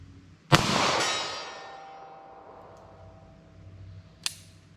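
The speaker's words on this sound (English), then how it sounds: "Now with the 38 Special, I'm gonna aim off the target just a little bit to the right because I know it shoots left." .38 Special revolver fired at a target outdoors, a single loud close shot with a long echoing tail, then a fainter sharp metallic click a few seconds later.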